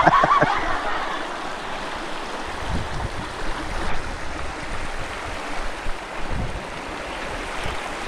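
Waves and flowing water on a river in Mindoro, a steady broadband wash of moving water with small splashes, heard alone from nearby.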